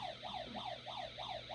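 A toy radio plays a rapid wailing wee-woo siren that sweeps up and down in regular cycles, thin and fairly faint, with no voices.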